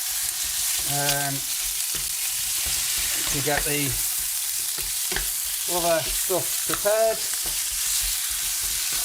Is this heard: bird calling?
no